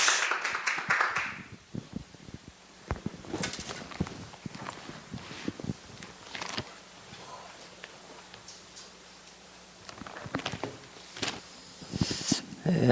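An audience at a church evangelism school gathering claps in scattered, uneven bursts to welcome a guest pastor, with a voice speaking between the claps.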